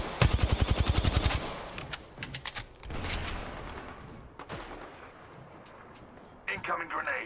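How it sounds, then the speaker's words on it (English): Weapons fire in Apex Legends: a loud, close burst of rapid automatic shots, then scattered single shots and another quick volley near the end, with a voice talking between them. "I am taking fire, friends."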